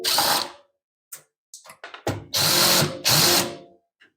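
A power driver backs screws out of the rear panel of a microwave during a teardown: a short whir, then a few brief bursts and clicks, then two longer loud whirring runs, close up with no talking.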